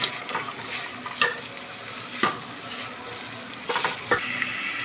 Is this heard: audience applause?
no